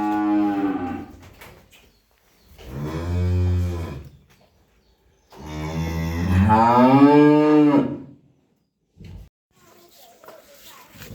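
Pakistani-breed cattle low loudly and close by, three long drawn-out moos separated by pauses, the last the longest, with faint shuffling between calls.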